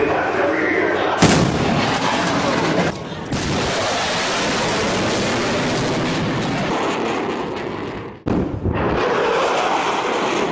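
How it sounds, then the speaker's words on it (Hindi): Supersonic fighter jet sonic boom: a sharp broadband crack opens into a long, loud rumbling roar that holds steady for several seconds, breaks off briefly, then swells again. "तो चलिए ये भी सुन लेते हैं कि सोनिक बूम का साउंड असल में कैसा होता है।"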